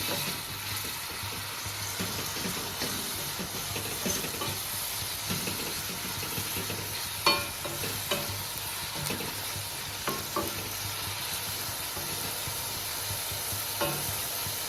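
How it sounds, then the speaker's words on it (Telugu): Ridge gourd curry cooked with milk bubbles and sizzles steadily in a pan while a spoon stirs, with occasional soft scrapes and taps over the continuous hiss. "ఇది ఒకసారి బాగా కలుపుకోవాలి."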